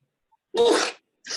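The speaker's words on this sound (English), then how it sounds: "Pardon me, sneeze." A single sharp sneeze bursts out close to the microphone, followed by a short breathy sound afterward.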